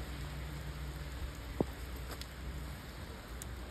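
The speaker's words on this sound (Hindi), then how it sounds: "बारिश।" Rain falls on a road in cloud-covered hills on the way to Dalhousie, a faint steady hiss with one brief sharp tap partway through.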